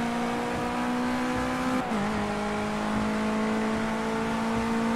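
Race car in the Project Cars 2 video game, its engine droning at a steady high pitch, then dipping briefly with a gear change before settling again, continuous and close with no talking.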